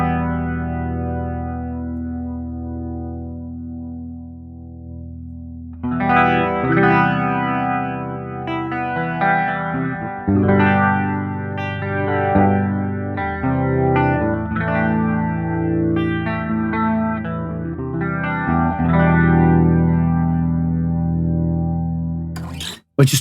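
Clean electric guitar through an AmpliTube 5 amp emulation with a chorus-like effect, a sustained chord ringing first, then picked melodic notes shimmering with echo and wide modulation, played alone.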